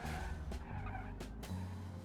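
A car in a driving video game brakes hard and its tires skid, a loud continuous squeal with engine rumble underneath and a couple of brief shifts in pitch.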